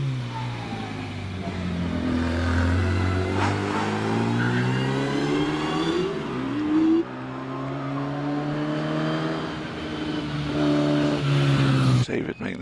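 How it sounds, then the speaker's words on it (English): A 1098cc Gemini Mark II race car of older vintage climbs a club hill climb course, its engine revving hard through rising and falling gear changes, loud and close throughout, with a commentator talking over it. "slightly older vintage, is the Gemini Mark II 1098cc car of David Cranage."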